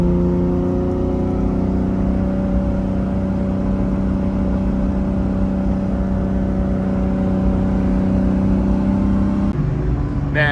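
Lamborghini Diablo SV engine while driving, a steady sustained drone with tonal harmonics that holds constant, then shifts pitch near the end as the engine note changes.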